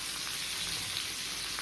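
A ground paste of ginger, chili, garlic, onion and tomato fries in hot oil, giving a steady, close, crackling sizzle with no talk.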